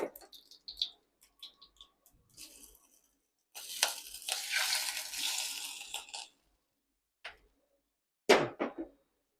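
Cumin frying in a hot pan gives a burst of crackling sizzle lasting about two seconds while it is stirred. Scattered clinks and faint voices come before and after it in a quiet kitchen.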